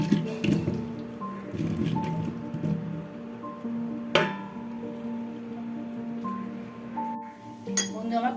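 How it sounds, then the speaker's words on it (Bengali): Boiled taro is tipped into a strainer to drain, giving soft wet squishing and splashing sounds. A sharp metallic clink sounds partway through, and a low kitchen hum continues underneath. "এবার এইটাকে আমি পুরো একটা ছাঁকনিতে ছাঁকবো, ছেঁকে পুরো জল ঝরিয়ে একদম শুকনো মতন করে নেব"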